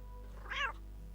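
A short cat meow in the Egyptian adventure game Ankh: Heart of Osiris, a single brief mew heard faintly over a steady low game hum.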